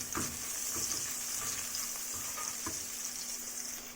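Garlic and onion frying in a little oil for instant pancit canton, a steady close sizzle with a few light stirring scrapes, no talking.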